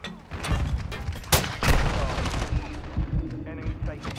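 Rapid gunfire rattles through a close-quarters Call of Duty Shipment match, with bursts of shots, a couple of sharp loud cracks and steady shooting in the background.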